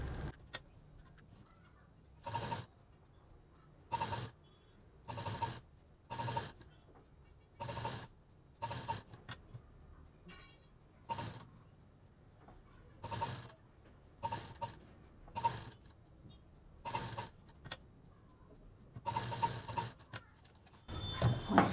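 A sewing machine stitching scrap fabric pieces around a curve runs in short regular bursts of rapid mechanical whirring, each lasting about a second, with pauses between them, close and clear without talk.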